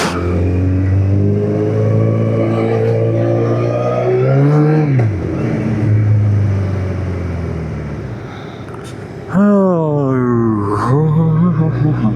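Kawasaki ZX14 motorcycle ridden in first and second gear through Dubai, a loud, close engine that revs up and shifts, drops off briefly, then climbs again with rising pitch.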